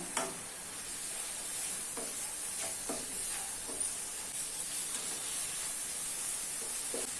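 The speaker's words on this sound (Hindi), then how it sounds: "अभी इसमें 2 फाइनली चॉप किए हुए टमाटर ऐड कर लेना है और मिक्स कर लेना है।" Two finely chopped tomatoes are stirred into a spice masala for mutton keema, giving a soft, steady sizzle with occasional scraping clicks from the spoon, fairly quiet and with no talking.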